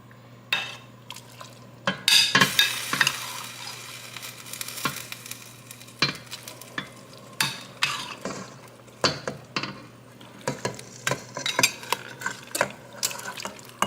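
Peaches stirred into a hot pan for a peach cobbler, with a steady soft sizzle and repeated sharp scrapes and clinks of a utensil against the pan, fairly close and with no talking.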